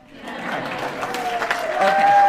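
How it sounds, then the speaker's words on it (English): Guests at a memorial luncheon and celebration of life break into clapping that swells and grows louder, with voices mixed in beneath it. "you can all clap for yourselves"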